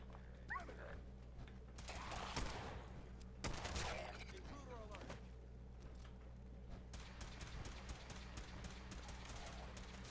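Gunfire in Fallout 4 crackles in several broadband bursts, with two loud volleys near the start and scattered quieter shots later, all over a steady game background hum.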